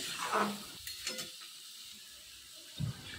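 Potatoes and pointed gourd stirred in a pan, a scraping stir at the start and another near the end, with a faint sizzle between and no voices.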